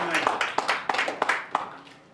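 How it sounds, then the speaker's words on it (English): A church congregation claps together for a man during a sermon, a burst of close, uneven hand claps in several loose surges that fade after about two seconds. "Let's give him a hand clap"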